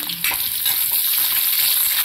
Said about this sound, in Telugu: ఇప్పుడు పోపులు, ఎండుమిర్చి, వెల్లుల్లి, అలాగే పచ్చిమిర్చి వేసుకొని బాగా కలుపుకొని,